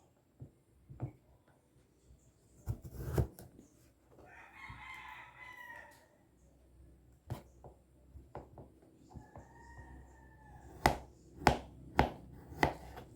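A knife slices blue ginger (luyang asul) while healing oil is being prepared. Sharp, scattered cuts land on a board and end in a quick run of four crisp chops, while a rooster crows twice in the background.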